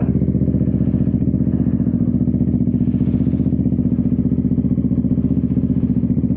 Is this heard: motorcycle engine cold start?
yes